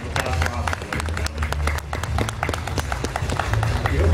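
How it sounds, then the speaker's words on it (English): An audience applauds the Asimo robot demonstration with steady, dense clapping that holds loud and close for the whole stretch. "Let's have an extra round of applause for Asimo"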